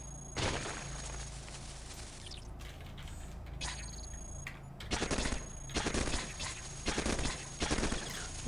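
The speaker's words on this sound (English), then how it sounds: "A little opening grenade, followed by a little bit of destruction." Cogmind grenade and destruction effects: a string of sharp crackling bursts and rapid rattling blasts, loud and close, following a quieter stretch of low game hum.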